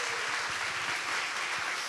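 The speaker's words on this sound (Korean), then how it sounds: "박수 한번 주세요" Studio audience clapping together at a Korean talk show, a steady dense patter of applause filling the room throughout.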